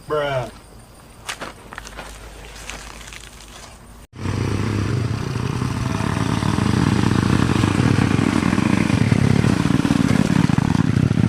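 Motorcycle engine running loud and close for several seconds after a sharp cut, a steady rising drone with rumble underneath, following quieter footsteps and shuffling at the start.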